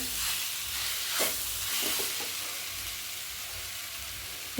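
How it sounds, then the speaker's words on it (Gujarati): Chopped dates roast in a pan for khajur pak, a winter sweet, giving a steady close sizzling hiss with a few soft stirring scrapes and no voices. "ખજૂર આપણું શેકાઈ ગયું છે"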